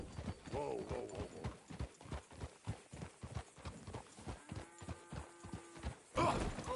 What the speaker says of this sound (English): got a problem with that horse?